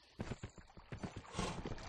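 Horse hooves in the video game Kingdom: New Lands, a quick run of soft, evenly spaced clip-clop beats that carries on steadily at close range with no voices over it.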